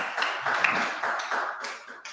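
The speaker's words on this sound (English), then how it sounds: "I haven't heard applause in a very long time." A spiritual-living congregation applauds with a brief burst of scattered hand clapping, moderately close and fading slightly over a couple of seconds, with no talk.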